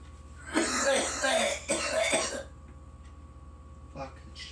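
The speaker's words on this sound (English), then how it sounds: "I'm coughing like a motherfucker." A person coughs hard and raspily, close up, right after a large bong hit, in two harsh rounds followed by a quieter single cough near the end.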